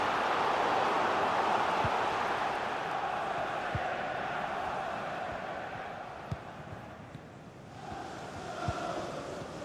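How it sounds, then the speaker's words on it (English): Stadium crowd roaring during a corner kick in a football video game, a dense continuous wash of cheering that eases slightly toward the end, with a commentator talking over it and a few dull thuds. "just listen to the crowd. They know this is a big chance to equalise."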